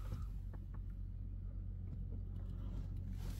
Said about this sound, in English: that's it, the vehicle started up